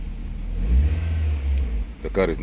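The engine of a 2009 Nissan Cube with a no-acceleration fault idles at high RPM while still cold, a loud, close, steady low rumble that swells slightly, with a brief voice near the end.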